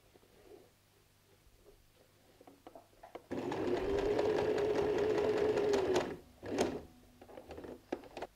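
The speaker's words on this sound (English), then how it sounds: "turn over on the other side and start sewing again" A sewing machine stitches fabric in one steady, close whirring run of about three seconds, framed by quiet handling clicks before and brief bursts of machine noise after.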